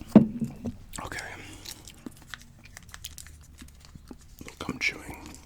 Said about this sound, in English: Gum chewing.